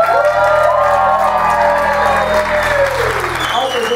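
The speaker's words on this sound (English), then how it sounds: "Doing a round of applause." Loud, sustained applause from a large crowd at a party in the Broadmoor Hotel, with cheers and whoops rising through the clapping.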